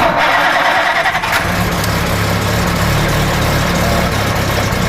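A Talbot Lago T150C engine runs loud and steady with a deep low rumble, its pitch and intensity shifting slightly early on as it catches and revs, filling the whole stretch without a break.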